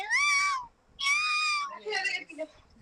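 A voice imitates a cat, giving two drawn-out meows followed by a shorter, broken meow-like call, close and clear.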